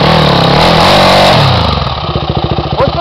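A Yamaha motorcycle engine roars close and loud in a revving burst, then settles into a fast, rhythmic chugging idle with steady pulses.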